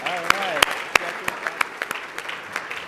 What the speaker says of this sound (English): Let's give yourselves a round of applause for that.